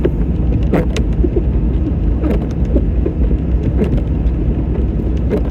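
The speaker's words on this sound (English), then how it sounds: "driving this old turbo diesel" An old turbo diesel car rolls along, a loud, steady low rumble of engine and road noise inside the cabin, with brief scattered knocks and rattles, in snowy conditions.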